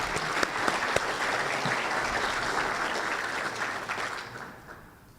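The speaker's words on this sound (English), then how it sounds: "those guys really deserve a round of applause too" A business summit audience gives a round of applause for an animal sanctuary team, loud dense clapping with a few sharp near claps early on, holding steady and then fading out at the end.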